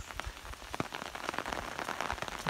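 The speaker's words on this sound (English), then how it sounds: "Beautiful, glorious rain after 6 weeks of waiting." Steady rain after a six-week dry spell in Kyneton, pattering densely on surfaces with scattered close drops, constant and fairly soft throughout with no voices.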